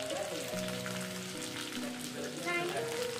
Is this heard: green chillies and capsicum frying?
yes